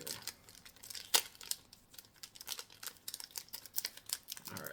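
Crinkly plastic wrapper of a Japanese Pokémon card pack, a Destined Rivals Team Rocket set, being handled and picked at, soft scattered crackles and clicks with one sharper tearing crinkle early on, close and quiet.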